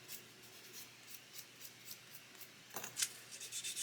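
Sprue nibs are sanded off plastic model kit parts with an abrasive sponge. The faint, short scraping strokes come close together in a rhythm, with a slightly louder flurry near the end.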